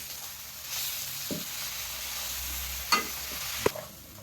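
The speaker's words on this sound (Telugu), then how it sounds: "ఇలా కింద మీద మరేసుకుంటూ కలుపుకోవాలి" Drumstick leaf paste being stirred into a goat head curry, a soft steady sizzle running throughout with a few distinct scrapes and knocks of the spoon against the pot.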